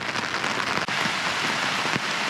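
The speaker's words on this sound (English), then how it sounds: "we're still experiencing heavy downpours" Heavy rain pouring down at Rock Lake, a dense, steady hiss of drops striking the water and nearby surfaces, loud and continuous with no voices.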